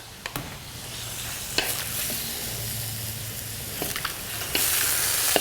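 Shrimp fried rice with ginger, garlic and seasoning sizzles and crackles steadily in a hot pan, with a few sharp clacks of stirring or utensil hits over the frying hiss.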